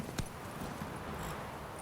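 Horse hooves clip-clopping at a steady walking pace in The Witcher 3, fairly faint and blended into a constant low game-ambience background with no talk.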